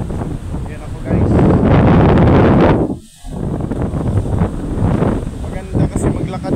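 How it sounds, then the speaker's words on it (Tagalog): Strong wind buffets the microphone on a beach at Boracay, a loud continuous roaring rush that swells and briefly drops out before returning, with no talk over it. "mahangin"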